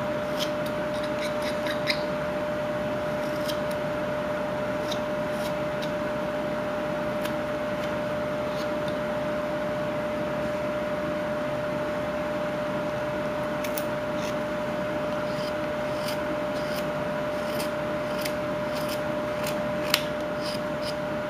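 A knife whittles a small wooden animal figure, giving faint, close, repeated scraping and snipping cuts at an irregular pace over a steady low hum.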